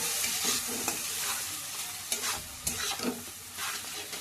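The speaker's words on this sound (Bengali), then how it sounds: "এবার ভালো করে কষুক," Spices with chili powder and salt sautéing in oil in a pan for a fish curry, a close, soft sizzle with a few stirring scrapes and thuds, no one talking.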